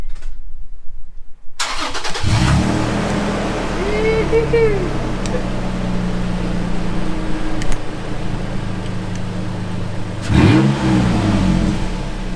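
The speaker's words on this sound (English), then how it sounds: "I'm going to start this up without any exhaust on." A Toyota Tacoma truck engine, run with its exhaust removed, cranks and starts, then idles loudly with rough revving blips, ending in a hard rev near the end; a voice speaks over it.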